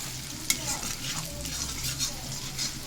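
Chickpeas tempered in hot oil, a steady bright sizzle of frying with stirring scrapes and a sharp clink of a utensil against the pan, close and continuous.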